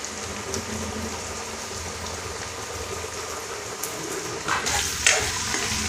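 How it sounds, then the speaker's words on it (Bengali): Whole cumin, bay leaf, cinnamon, and black and green cardamom frying lightly in oil, a soft steady sizzle with a few faint clinks and a brief louder rustle near the end, no voices. "একটু হালকা ভেজে নিব"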